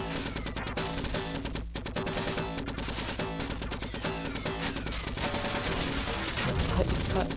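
Rapid, relentless gunfire and blasts from a retro arcade shooting game rattle in dense rhythmic bursts, loud and continuous, with a longer explosive rumble swelling near the end.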